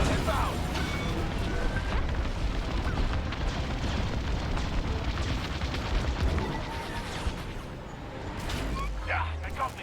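Missile explosions and heavy rumbling booms fill a Star Wars: Squadrons multiplayer space dogfight, a dense, continuous roar of blasts with voices talking over the din.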